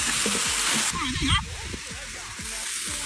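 Green beans tipped into a hot oiled wok with pork ribs in a rural kitchen, hissing and sizzling loudly throughout, with a burst of stirring and a voice talking over it.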